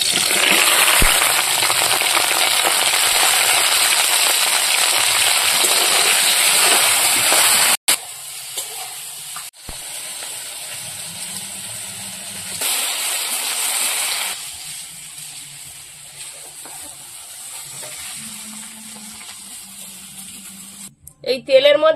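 Okra fries in hot oil with salt and turmeric for a mustard okra dish, giving a loud, dense sizzle for about eight seconds before it drops to a softer crackle with a few clinks and stirring sounds.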